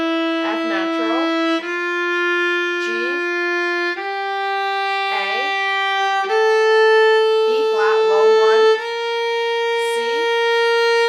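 A viola plays a slow D natural minor scale with long sustained notes, about five, each with a smooth full-bow change, while a voice talks over it.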